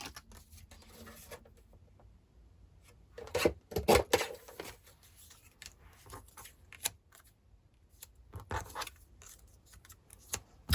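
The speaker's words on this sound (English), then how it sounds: "I'm just going to cut these off camera here real quick" Scissors snip through pieces of patterned card-making paper in short, quiet bursts, with louder cuts clustered midway and scattered light paper rustles around them.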